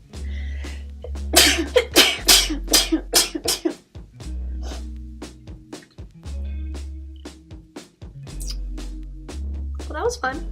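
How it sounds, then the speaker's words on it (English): A person sneezes during an allergy-stricken makeup session: a quick run of loud, close sneezes and coughing bursts, followed by lower throat noises and sniffs. "Gotta sneeze."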